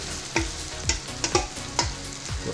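Cream being stirred into shrimp in a hot pan, with a series of distinct scraping strokes of the spoon over a steady close sizzle. No one speaks.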